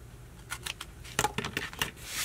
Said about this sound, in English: I'm going to trim off the excess